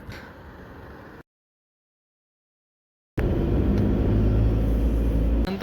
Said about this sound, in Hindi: अभी ये गाड़ी आ गई है